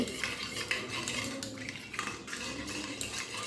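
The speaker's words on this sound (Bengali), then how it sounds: "মশলাটা কিন্তু জলের সঙ্গে খুব ভালো করে মেশানো হয়ে গেছে" A spoon stirs turmeric, chili, cumin and coriander powders into water in a bowl, making repeated close clinks and scrapes against the sides in a loose rhythm.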